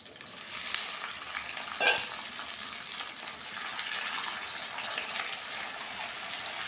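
Papaya, potato and squash drop into a hot pan with fennel seeds and fry with a steady, bright sizzle and occasional stirring scrapes, continuous and close with no talking.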